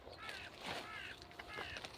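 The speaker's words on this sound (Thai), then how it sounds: "ฟังเสียงอีกาฮะ" A crow caws in the morning outdoors, a few harsh, repeated calls close by over a faint background, with no talk.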